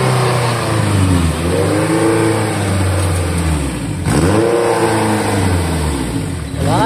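A loud, modified Honda Civic engine revs hard close by, pitch sweeping up and down through two big throttle blips over a constant roaring exhaust, with no talking.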